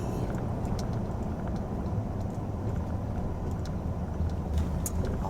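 A car rolls slowly into Roosevelt State Park in a Mississippi forest, heard from inside as a steady low engine and tyre rumble, fairly quiet and even, with faint small clicks and no voices.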